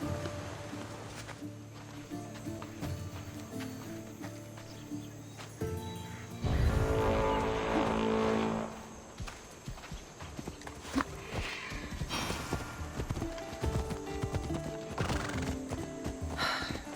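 A horse in Assassin's Creed Odyssey whinnies loudly, then its hooves clip-clop in a steady riding rhythm over game music and ambience, with brief voices between.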